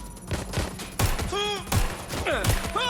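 Gunfire in the video game Watch Dogs: Legion: several sharp shots spaced about a second apart, with whooshing and ringing effects between them while someone talks over it.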